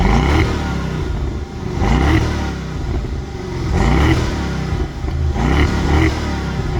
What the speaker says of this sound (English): Let's get a little rev time with Trish.